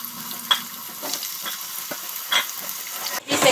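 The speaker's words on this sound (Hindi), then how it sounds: "इसमें डाल देंगे ऑयल, ऑयल को अच्छे से गर्म होने दें, और डाल देंगे पोटैटो, इसे हम लो फ्लेम पर फ्राई कर लेंगे" Potatoes fry in hot oil in a pan on a low flame, giving a continuous close sizzling hiss with a few soft stirring knocks and a brief louder crackle at the end, with no one speaking.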